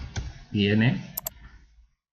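Two quick keyboard key clicks, close and crisp, right after a short stretch of talking.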